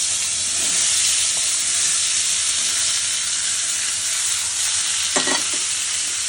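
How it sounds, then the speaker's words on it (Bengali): Potato and papaya fry in a spice tempering of dry red chillies and bay leaves, giving a steady, close, bright sizzle that runs unbroken, with a few scrapes of stirring near the end. "ফোড়নটা দিয়ে একটু গন্ধ বার হলেই এর মধ্যে আলু আর পেঁপেটা দিয়ে দিতে হবে"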